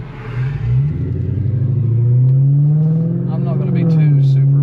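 Tuned Jaguar car accelerating hard, a loud, steady engine drone rising in pitch through the run, close and continuous.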